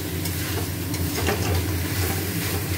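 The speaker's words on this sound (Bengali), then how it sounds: "মাটন কষা হচ্ছে।" Mutton, with potato added, being sautéed in a pan ahead of pressure cooking, giving a steady close sizzle with scraping stirs and no talking.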